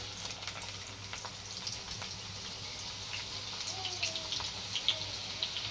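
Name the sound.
chopped onion frying in hot oil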